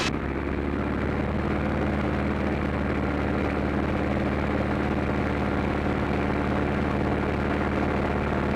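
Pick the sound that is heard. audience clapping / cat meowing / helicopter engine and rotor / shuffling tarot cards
helicopter engine and rotor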